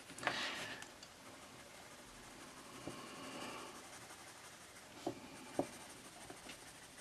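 Colouring pencils scratching on paper in a quiet room, faint soft strokes with a few louder taps and scrapes scattered across the stretch.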